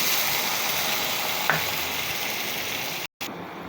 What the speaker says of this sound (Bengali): এবার একটু ঝোলের পানি দিয়ে দিলাম।